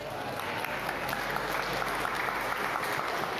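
An audience at a university engineering seminar applauds after a talk, producing steady, dense clapping that fills the room at an even level throughout without letting up.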